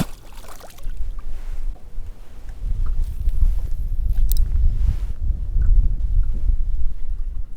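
Strong, constant wind buffets the microphone out on the ice during a winter fishing trip, a dense low roar with no one speaking.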